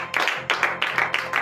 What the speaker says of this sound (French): de vive acclamation à l'Éternel